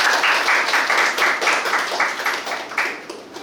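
An audience at a student and faculty session on incubation and accelerator opportunities claps together in a steady, rhythmic beat, loud and sustained for several seconds before easing off.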